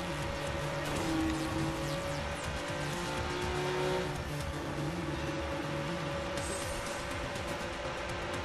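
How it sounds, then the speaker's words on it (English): Cars driving around in the open-world video game Watch Dogs, a steady engine hum with tire noise and a brief louder swell, continuous and fairly close with no talking. "Every car just happens to park right in front of my face."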